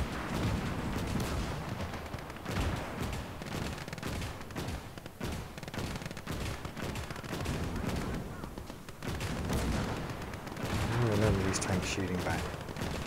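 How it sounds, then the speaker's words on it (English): Battle in the real-time strategy game Gates of Hell: Operation Bagration, with dense, continuous rifle and machine-gun fire and heavier booms, rapid cracks overlapping throughout, with brief voices amid the shooting. "Shooting back."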